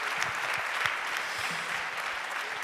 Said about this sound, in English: Let's give a big round of applause one more time for Mehak, for Eva, and for Niamh